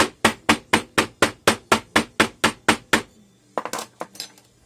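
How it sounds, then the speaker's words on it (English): A metal chasing hammer packs red casting clay, eleven sharp, evenly spaced taps in a steady rhythm, then a few quicker, lighter knocks and clatters, close and loud with no talking. "So far I've found that this chasing hammer seems to work about the best for me."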